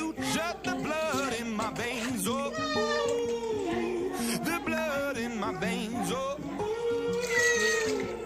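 A cat meows repeatedly while being bathed, its cries rising and falling in drawn-out wails, mixed with a person talking nearby.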